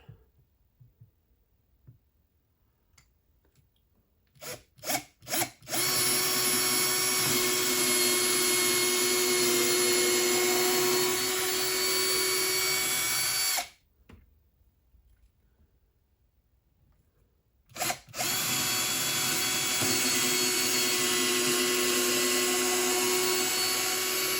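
Power drill driving screws into a shelf: after a few short trigger bursts, a loud, steady high whine runs for about eight seconds, stops for a few seconds, then resumes and runs continuously to the end.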